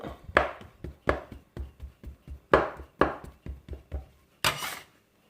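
A knife cuts homemade bread dough in a grid on the work surface, giving about a dozen sharp, close knocks in an uneven rhythm with brief pauses between them and no talking.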